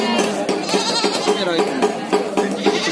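Goats bleat repeatedly at the Sunggingan livestock market in Boyolali, several loud close calls overlapping amid crowd chatter and people talking.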